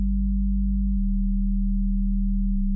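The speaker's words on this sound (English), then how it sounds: "In this example with a sine wave" A pure, low synthesized sine tone hums steadily, stepping down in pitch twice, clean and sustained with nothing else present.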